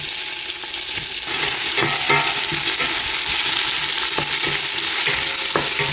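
Sliced onions and whole spices fry vigorously in a pan, a loud, constant sizzle broken by scraping stirs at irregular moments, with no talking.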